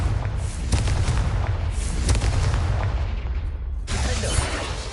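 A blasting curse from Hogwarts Legacy erupts in repeated heavy booms and crackling bursts with a rumbling low end, loud and continuous, then a sharp fresh blast near the end.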